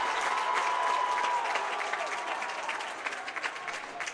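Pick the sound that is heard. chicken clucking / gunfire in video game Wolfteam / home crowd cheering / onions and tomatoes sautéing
home crowd cheering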